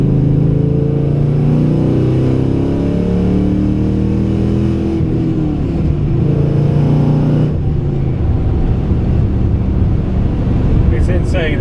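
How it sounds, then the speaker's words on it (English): An LS-powered car with a camshaft and bolt-on upgrades drones and rises in pitch as it speeds up on a highway, with steady road noise throughout. "Go ahead and get her up to speed on the highway here."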